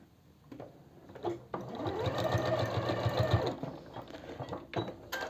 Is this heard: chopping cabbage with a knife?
no